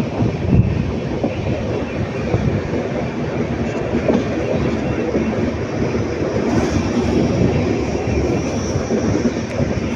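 An Indian Railways train between Erode and Bangalore rolls along the track with a steady, loud rumble and a faint clickety-clack of wheels, continuous throughout with no talking.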